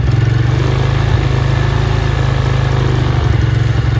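Venom X22 125cc motorcycle with a Nibbi race carburetor, warmed up and idling, giving a loud, close, steady mid-pitched engine putter with an even rapid pulse and no talk.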